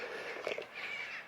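Crows caw faintly from trees around an old castle in a Scottish village, a couple of distant rough calls over soft outdoor ambience.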